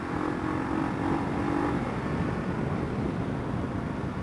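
A motorcycle accelerates hard through first gear into a second-gear wheelie, its engine a loud, steady roar that rises and stays strong, heard up close without speech.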